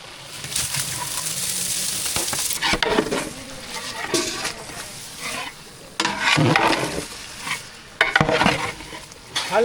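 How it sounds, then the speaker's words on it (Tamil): Chicken biryani masala being stirred in a pot, with steady sizzling and the scrape of a spoon against metal running through the clip in uneven bursts, close and fairly loud. "கிண்டி விடுங்க கிண்டி விடுங்க டக்குன்னு"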